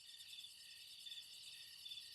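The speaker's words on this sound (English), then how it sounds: "Oh, that's a nice recording of a cricket." A single cricket chirps in a quiet setting, a faint, high, pulsing trill repeating in quick regular bursts over a few seconds, heard alone with no talk.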